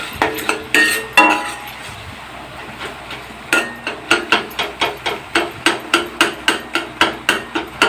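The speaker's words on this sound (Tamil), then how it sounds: "இப்போ நான் குடமிளகா கட் பண்ணிட்டேன்" A knife chops bell pepper (capsicum) on a board with fast, even, close strikes in a steady run through the second half, after a few scattered louder knocks and clatter.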